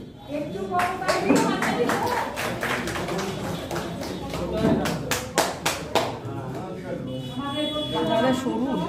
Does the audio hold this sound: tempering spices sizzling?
no